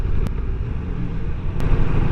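A car goes by on a road beside a creek, heard as a steady close engine and tyre rumble over a low wind-buffeted idle, with a couple of brief sharp knocks.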